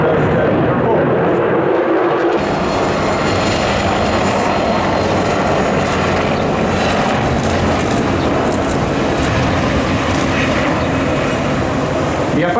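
An Apache attack helicopter at a joint Greece–US military exercise on a firing range roars continuously and loudly overhead, a steady dense engine and rotor noise with speech faintly underneath.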